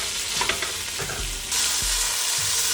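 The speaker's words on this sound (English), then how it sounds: "kind of just move the cherry tomatoes around and let it evenly coat with the olive oil and the seasoning" Cherry tomatoes frying in olive oil with seasoning, a steady close sizzle with stirring scrapes and soft clunks from a spatula, growing louder partway through.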